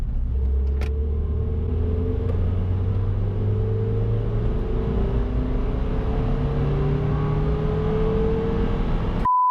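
Renault Twingo 2 RS with a 1.6 four-cylinder engine revs steadily, its drone rising and falling as it climbs toward 4000–5000 rpm, loud and continuous throughout with no talk.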